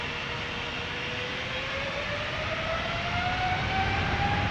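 A KLM Boeing 777-300 widebody jet taking off from Amsterdam Schiphol for Lima, a loud sustained engine roar with a rising whine building steadily, close and unbroken.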